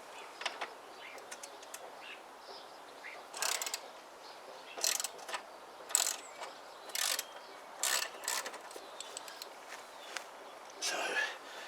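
A ratchet wrench works bolts loose on a Royal Enfield Interceptor, the bolts that also hold the grab rail, giving repeated short bursts of clicking with pauses in between, close and moderately loud.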